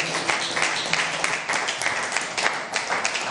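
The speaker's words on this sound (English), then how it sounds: "give the Lord the biggest clap of him" A church congregation claps for the Lord at a Bishop David Oyedepo service, sustained dense applause from a large crowd, fairly loud and steady for a few seconds.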